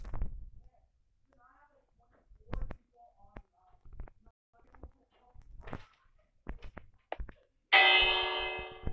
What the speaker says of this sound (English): ring the bell if you want to come in